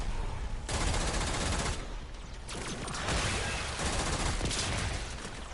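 Sustained rapid gunfire from the video game Warframe, dense bursts of automatic shots with mechanical clatter running nearly continuously and loudly throughout, with no talking.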